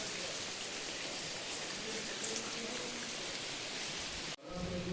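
Steady rain falls continuously as a broad hiss, fairly faint and even, cutting off abruptly near the end.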